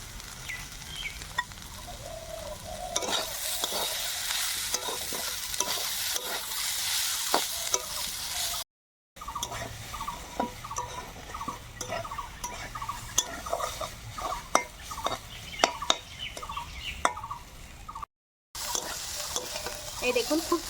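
Green chillies fry in hot mustard-tempered oil for a snake gourd and egg dish, a close crackling sizzle broken by frequent rhythmic spatula scrapes and stirs against the pan.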